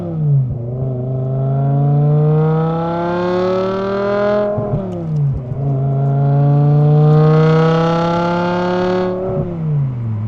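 A BMW E61 M5 Touring with a six-speed manual pulls hard on the road, its engine note climbing loudly through two long rising sweeps, with a brief dip for a gear change in between, heard from inside the car without talk.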